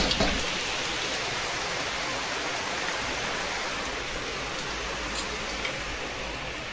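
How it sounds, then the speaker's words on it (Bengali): A downpour of heavy rain hisses continuously, a thick even wash of falling water heard without talk, slightly louder at the very start and then holding steady. "বিরাট বৃষ্টি হচ্ছে, বিরাট।"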